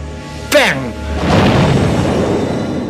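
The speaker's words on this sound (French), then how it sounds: "J'ai donné l'ordre au canonnier de tirer pour essayer de toucher le tigre." A tank cannon fires a shell at a Tiger tank during the Battle of Caen: a sudden loud blast with a swiftly falling whistle, followed by a long, heavy rolling rumble.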